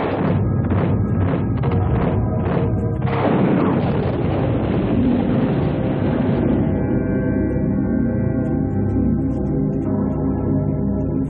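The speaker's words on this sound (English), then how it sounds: "With the guns of the superior American M1A1 tanks blazing, the Iraqi tanks are systematically incinerated." American M1A1 tank guns fire in battle during Desert Storm, with a run of heavy booming blasts at the start, then a loud rolling roar that slowly decays into a dense low rumble.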